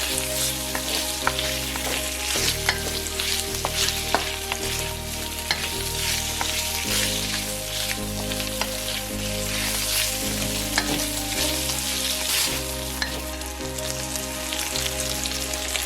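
Marinated beef and garlic stir-fry in a hot pan for a beef and asparagus pasta, a loud, close, continuous sizzle broken by regular stirring scrapes and clinks of the utensil against the pan, with no speech.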